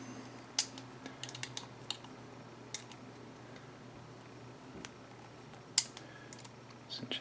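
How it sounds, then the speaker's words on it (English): Small hex wrench tightening a DIY GoPro USB battery grip, quiet scattered metallic clicks and ticks at irregular intervals over a soft, near-silent background. "we will take the hex wrench that came with it, just start tightening that up"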